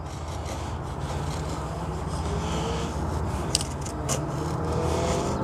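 Condor Hudson Bay knife with a thick, poorly ground edge shaving curls off wood for a feather stick: a steady, close rasping scrape with a few sharper catches, no talking.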